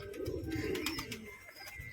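Pet pigeons coo softly nearby, a low throaty warble in a short burst, with faint chirps above and no voices.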